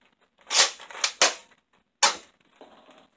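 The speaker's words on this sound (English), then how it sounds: "That was like some accidental slam fire there." A BOOMco Halo Needler toy blaster slam fires by accident, giving several sharp plastic snaps and whooshing pops, three loud close bursts in quick succession followed by a softer clack.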